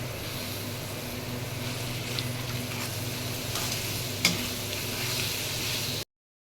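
Chicken filling frying with spices in a hot pan, a steady close sizzle that runs unbroken for about six seconds with faint stirring clicks, then cuts off.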